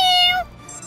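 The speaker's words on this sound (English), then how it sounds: "Kitties, get ready, and no meowing." A cartoon-style kitten meow from PAW Patrol toy play, a single bright, drawn-out mew that falls off, close and clear, followed by faint background sound.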